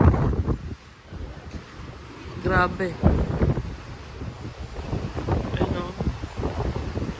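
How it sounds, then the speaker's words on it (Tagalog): Strong wind and heavy ocean waves on a cruise ship at sea near the Bahamas roar and buffet the microphone in gusts, with people talking and exclaiming over the rough noise. "Lakas ng alon."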